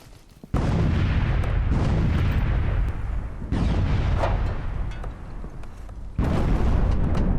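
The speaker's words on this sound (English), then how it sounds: "incoming artillery" Artillery fire landing in a video game, three loud booming explosions in a row, each a sudden heavy blast followed by a long rumbling roar, close and filling the space, no voices.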